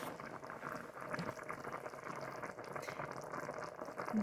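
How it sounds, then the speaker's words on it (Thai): Water simmering in a hot pot with vegetables, a faint steady bubbling and burbling close by, low and continuous with small pops throughout. "เดี๋ยวนี้น้ำก็กำลังเดือด"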